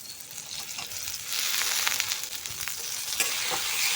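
Tomatoes sautéing in a pan for a Chettinad fish curry, a steady close sizzle that swells louder partway through, with scattered crackles and occasional soft stirring scrapes.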